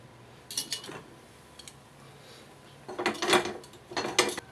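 A lid clatters onto a cooking pot of paksiw with tomato, pepper powder and salt: a short metallic rattle early on, then louder clanking bursts near the end, with quiet room tone between.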